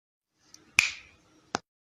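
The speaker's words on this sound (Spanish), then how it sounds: "Luego de oír el chasquido, Gordon abrió los ojos" Two crisp finger snaps ring out in near silence, the first sharp and slightly ringing, the second following less than a second later.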